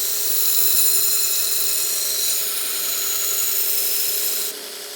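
Grinder taking metal off a railroad spike knife blade to set the bevel, a steady close abrasive hiss and whine held throughout, easing slightly just before the end.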